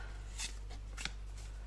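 Soft papery swishes of a tarot card being drawn from the deck, two brief faint slides over a low steady hum, quiet and close.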